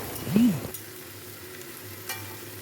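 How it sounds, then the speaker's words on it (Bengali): Young jackfruit pieces frying in a pan, a brief swell of bubbling sizzle at the start that settles into a steady low frying hiss, with a faint clink partway through; no voices. "এখানে এঁচোরটা একটু সাঁতরাতে দিয়ে দিলাম"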